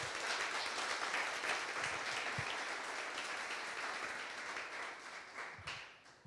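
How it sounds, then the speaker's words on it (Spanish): Evangelical church congregation applauding during a sermon, a broad, steady roll of many hands clapping that gradually thins and fades toward the end, with no talking over it. "Denle un aplauso a nuestro Dios."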